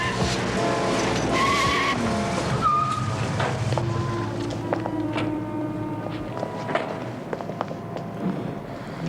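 An old Volkswagen minibus pulls away in a hurry, its engine revving loudly with tire squeals and skidding close by before settling into a steadier drive, with brief voices underneath.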